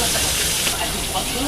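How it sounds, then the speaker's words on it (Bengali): Fish pieces fry in hot oil in a kadai over a gas flame, giving a loud, steady, close-up sizzle and hiss with no break across the short moment. "এবার মাছগুলো ভেজে নেবো"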